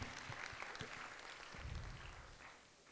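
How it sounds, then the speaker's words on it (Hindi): Faint clapping from a group of school students, thin and scattered, lasting a few seconds at low volume with a distant, roomy quality. "ताली बजाओ इसके लिए।"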